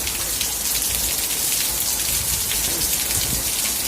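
Heavy rain pours steadily during a storm in Devgam village in the Gir region of Gujarat, a dense, loud, unbroken hiss with no voices.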